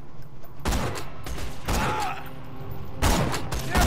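Sniper rifle shots in Borderlands 2 game play, a few sharp bursts with reverberant tails spaced across a few seconds, fairly loud over background game ambience.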